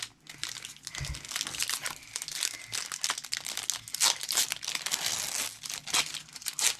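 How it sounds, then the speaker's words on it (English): Foil Pokemon Cosmic Eclipse booster packs being torn open and crinkled close up, a continuous loud stream of crackling, rustling and ripping wrapper noise. "start opening 4 packs of Cosmic Eclipse"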